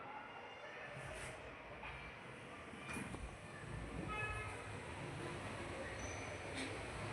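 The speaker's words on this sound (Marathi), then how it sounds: "रेल्वे आली." A train rolls past with a steady rumble of wheels and rail clatter that swells toward the middle and holds, with a few faint squeaks above it.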